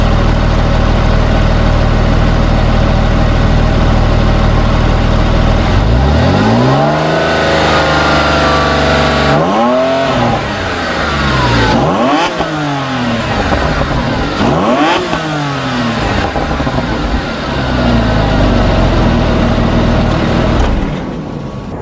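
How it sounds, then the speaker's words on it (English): A Porsche 911 with its stock exhaust, before a DIY modification, idles steadily, then is revved four times in quick succession, each rev rising and falling back to a loud, close idle. "We're going to do a few revs and let you hear what it sounds like."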